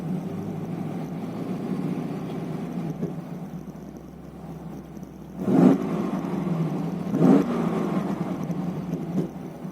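A Holden Commodore SS with a 6.0L L98 V8, Black Ops exhaust and an aftermarket cam idles with a low, rough, steady burble. Two short blips rise above the idle near the end.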